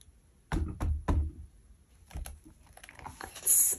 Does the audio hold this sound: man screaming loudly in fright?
no